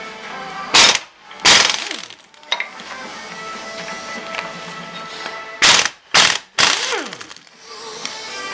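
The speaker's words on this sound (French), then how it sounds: "C'est donc des écrous de 13 et à dévisser dans le sens inverse des aiguilles d'une montre" A wrench working the 13 mm camshaft pulley nuts on a 1.25 L 16-valve Ford Zetec engine: sharp metallic ratcheting and clanking bursts, a few close, loud clacks separated by near-silent pauses.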